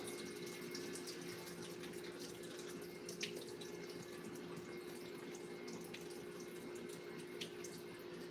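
Water runs steadily from a tap as diced potato pieces are drained and rinsed, held back by a hand, a continuous close splashing flow with a few faint clinks and no talk.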